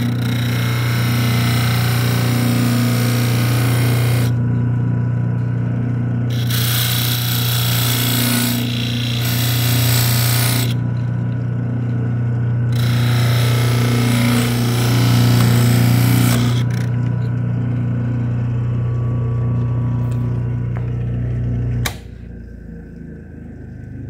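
A homemade lathe turns a wooden ring for a toy car steering wheel, its motor humming steadily while sandpaper rasps against the spinning wood in repeated bursts, until the motor cuts off near the end.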